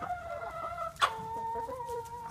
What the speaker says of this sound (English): That chicken's violent. That chicken is mean.